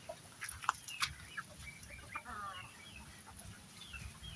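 Chickens cluck in short, scattered calls close by, with a few sharper squawks over a steady low rumble of background noise.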